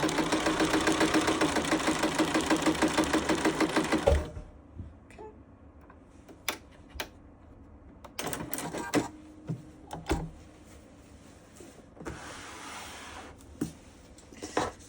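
For about four seconds a sewing machine stitches a blazer pocket seam with a close, steady, rhythmic mechanical chatter. It then stops, and quieter taps and handling noises follow.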